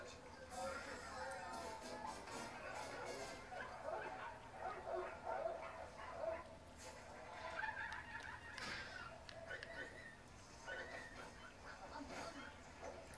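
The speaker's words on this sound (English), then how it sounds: "Come on, yappy dogs." Small dogs yap and bark repeatedly in the Rabbids Go Home video game, mixed with clucking fowl and busy game sounds in a continuous, cluttered soundscape.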